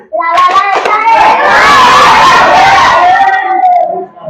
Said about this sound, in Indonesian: tepuk 3 kali